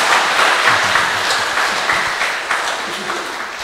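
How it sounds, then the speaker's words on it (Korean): Dense, sustained applause from a church lecture audience thanking a priest, steady and loud throughout with no pauses. "다시 한번 힘찬 감사의 박수를"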